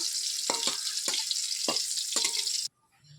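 Vegetables and lentil dumplings frying in hot oil for Bengali shukto, a steady close sizzle with a few stirring knocks, stopping abruptly near the end.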